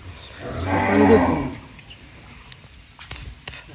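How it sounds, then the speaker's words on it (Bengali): A bull being loaded onto a truck for transport lets out one deep, drawn-out moo close by, followed by quieter shuffling hooves and scattered knocks. "আজকের এই ভিডিওতে কিছু দেখাচ্ছি গরু।"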